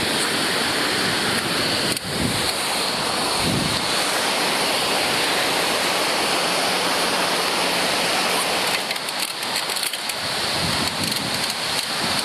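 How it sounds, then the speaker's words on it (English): Big waves of Lake Ontario crashing on a windy day, a loud continuous roar of surf and wind with surging swells and brief gusty dips, no voices. "a beach where you can see the big waves of Lake Ontario coming crashing in"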